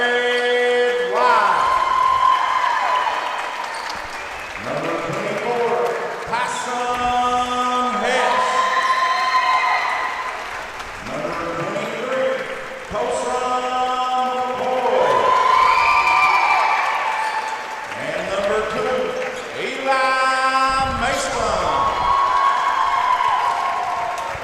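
Crowd cheering and shouting at a Pike County A Team basketball tournament third-place game, loud and sustained with rising whoops and bursts of applause in a gym, voices mixed in throughout.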